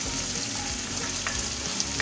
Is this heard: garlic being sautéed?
yes